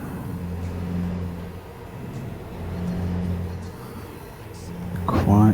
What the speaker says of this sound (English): Truck's noisy tonight.